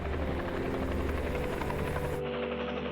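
Military Chinook twin-rotor helicopter in flight, a dense, steady rotor thrum and engine roar heard loud and continuous, cutting off abruptly near the end.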